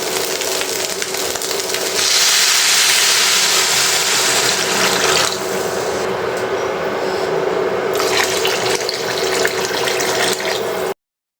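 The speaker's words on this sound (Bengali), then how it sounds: "এখন দিয়ে দেব পানি" Water is poured steadily into a pan of fried rice while cooking Munshiganj-style bau bhat, a continuous loud rushing hiss with sizzling that shifts in intensity before cutting off at the end.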